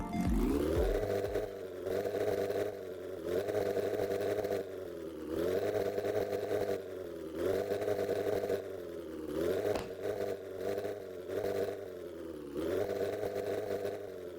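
Motorcycle engine with a default exhaust in the Roblox MotoRush racing game, revving loud and steady in repeated rising pulls with short dips between gear changes, no voices.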